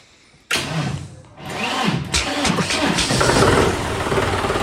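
A tractor engine at a trolley-pulling competition cranks and catches abruptly, then settles into a loud, rough idle that rumbles on continuously.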